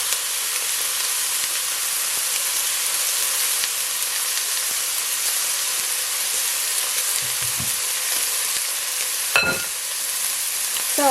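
Ground beef, about one and a half pounds, frying in a pot over medium heat, a steady soft sizzle that runs unbroken throughout with no talking.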